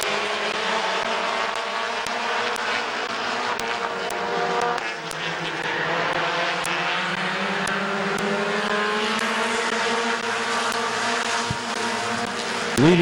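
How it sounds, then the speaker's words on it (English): A pack of compact race cars roars off at the start of a heat race on a speedway, engines droning and revving together in rising, wavering tones, loud and sustained for the whole stretch. "green flag is waved and we are off and running with our third compact"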